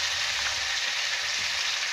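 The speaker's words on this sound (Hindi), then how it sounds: "अब यहाँ पे हम आलू को फ्राई करेंगे।" Potatoes fry in two tablespoons of oil in a kadhai on a gas stove, giving a steady close hiss and sizzle that runs without break and without any talk.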